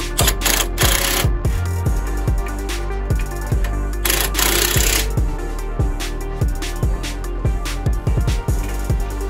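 Grade 8 3/8-inch bolts on a 1960 Chevrolet Impala suspension being tightened with a tool, a loud rapid run of sharp metallic clicks and ratcheting bursts, close and without talk.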